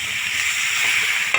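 Vegetarian Bengali jackfruit curry sautéing in a pan, a loud continuous sizzle and bubbling with a small clink near the end and no voices.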